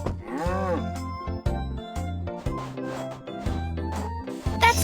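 Cartoon cow mooing in a baby farm video game, a drawn-out moo followed by playful game sound effects and rubbing noises, loud and clear.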